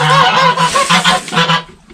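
Crowded chickens in a coop with too little roosting space call out in a loud, close, rhythmic run of honking clucks that fades at the end.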